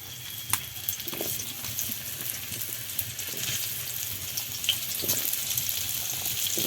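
Vegetables frying in mustard oil in a home kitchen, a steady soft sizzle with occasional clinks and stirring sounds, moderately close and without talk.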